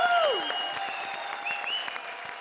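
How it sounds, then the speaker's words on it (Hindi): A studio audience at a Comedy Circus taping bursts into loud applause for Jeetu, thick continuous clapping with a few whistling or whooping tones sliding over it, easing slightly toward the end. "जीतू जी के लिए जोरदार तालियां"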